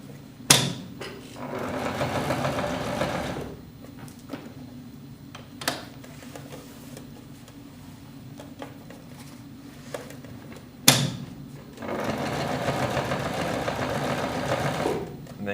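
A sewing machine stitches across fabric in two loud running bursts separated by quieter pauses, with sharp knocks and clicks between the runs.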